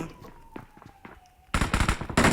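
Gunfire in the mobile battle royale game PUBG Mobile: quieter scattered shots at first, then loud rapid automatic bursts in the second half, close and dense.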